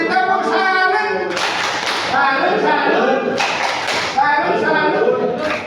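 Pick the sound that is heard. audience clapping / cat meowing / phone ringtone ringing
audience clapping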